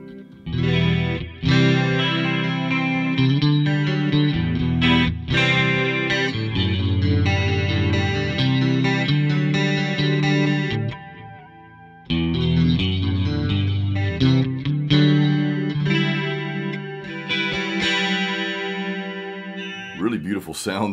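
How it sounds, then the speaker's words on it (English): A clean Fender-style electric guitar tone through a Line 6 POD Go with chorus engaged plays shimmering chords and single notes, loud and close, with a brief pause midway and a pick scrape near the end. "I'll click on the chorus so you can hear the difference"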